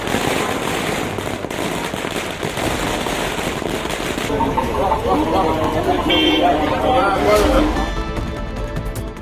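Firecrackers set off by villagers in Kokkarayanpettai celebrating a fulfilled demand crackle in a dense, rapid, continuous barrage, loud and near, with a brief horn-like toot late on.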